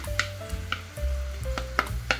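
Ginger added to a sizzling pan while cooking burong hipon, with steady frying hiss and repeated close scraping strokes of a utensil against the pan.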